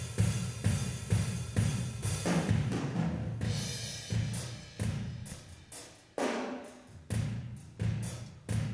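Mono room recording widened to stereo by delaying one side 35 ms, heard as a series of loud rhythmic hits or strikes with short room decay between them, steady pulse throughout, no voices.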